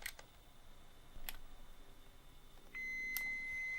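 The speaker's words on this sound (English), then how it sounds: "if the lid's closed, it will just beep" A 1980s computer with its lid closed gives several sharp clicks spaced apart, then a thin high electronic beep that holds steady near the end, quiet and close in a hushed room.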